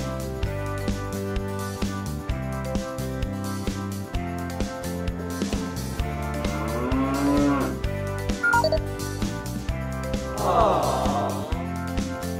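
Cattle moo at a county fair livestock barn: long, deep lowing calls, one after another, heard up close over steady background hum and crowd noise.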